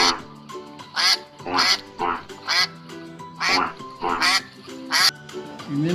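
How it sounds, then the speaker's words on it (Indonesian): A series of loud, nasal duck quacks, about seven, coming in short bursts with brief pauses between them. "teman-teman, ini namanya bebek"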